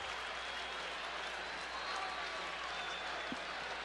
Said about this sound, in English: A capacity crowd here at Busch Stadium on a cool, crisp evening. And they're rooting for their Redbirds.